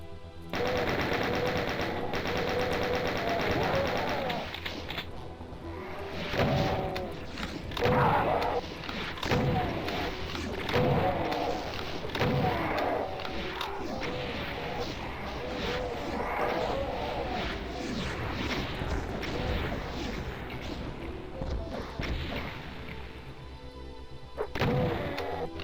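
Heavy chaingunner gunfire in a Doom map, dense rapid bursts with crashing impacts filling the mix almost without pause, loud and close, with a little talk underneath.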